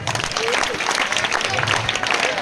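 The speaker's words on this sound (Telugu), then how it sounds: "big clap to her" Steady applause from an audience at a school parents' meeting prize-giving, a dense wash of clapping filling the whole moment at close-to-moderate distance with no speech over it.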